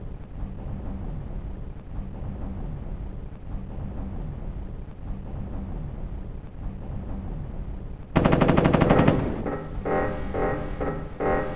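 M60 machine gun in the 1995 game Mortal Coil: Adrenalin Intelligence, a steady stream of rapid shots for several seconds, then an abrupt louder, brighter burst of different weapon sound near the end.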